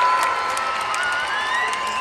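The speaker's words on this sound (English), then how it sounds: "Clap your hands and make some noise." A circus audience at a shopping mall show in Dubai claps and cheers in a steady, dense wash of applause with scattered whoops, filling the whole moment.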